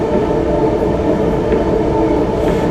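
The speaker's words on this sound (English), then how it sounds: "I'll have to wait till the train goes by." A train rolls past close by, its loud, steady rumble and rail noise filling the whole stretch without a break.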